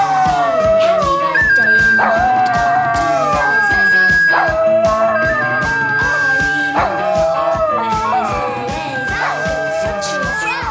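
A dog howls and yips in long rising and falling wails while steady rhythmic music plays, loud and close, with a few brief pauses between howls.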